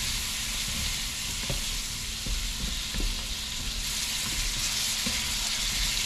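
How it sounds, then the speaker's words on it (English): Chickpeas stir-frying with spices in a pan over low heat, a steady soft sizzle with scattered spoon scrapes and clicks, close and continuous with no talk. "Just add our chickpeas in there. Get them all coated with all the spices."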